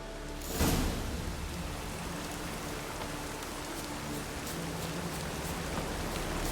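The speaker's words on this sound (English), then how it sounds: "Rain gives me a powerful hunger." Steady rain hisses evenly throughout in The Witcher 3: Wild Hunt video game, with one brief sharp burst of noise near the start, then an unbroken wash of falling drops.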